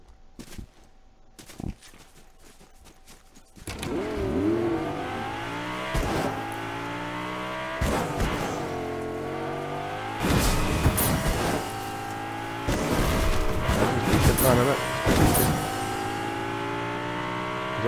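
A car engine in the game Fortnite revs and accelerates repeatedly, pitch sweeping up and down through gear changes with occasional tire squeal, loud and close after a quieter opening of clicks.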